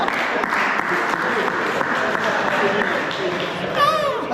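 A church congregation applauds in sustained, dense clapping that fills the room, with voices mixed into the crowd noise.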